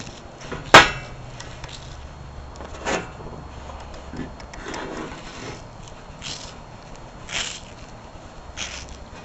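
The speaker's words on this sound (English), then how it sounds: "I'm gonna take and cut the knot off here" A single sharp crack as a knot is cut off wood, followed by faint scraping and a few quiet knocks.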